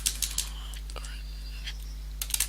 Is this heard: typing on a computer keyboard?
yes